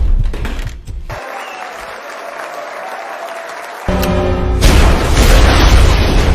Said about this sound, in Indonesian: tepat jam 12 malam, bom waktu yang Gio siapkan pun akhirnya meledak